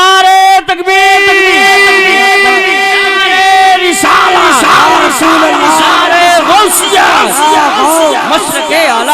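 A large crowd at a Muslim religious gathering in Kesarpur roars the Naara-e-Takbeer slogan, loud and sustained. A single voice first intones the call over a held tone, then many voices surge in together.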